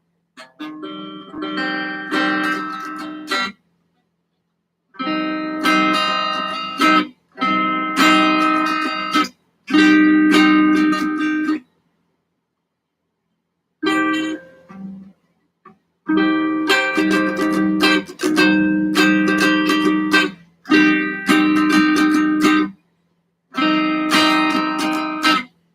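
Electric guitar plays inside chord voicings in several strummed bursts separated by short pauses, clear and close with no talking.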